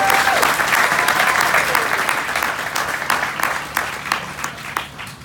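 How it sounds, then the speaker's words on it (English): Audience applause for council members at a Washington, D.C. arena event, dense clapping that starts strong and gradually thins into scattered individual claps. "Give them a round of applause as well."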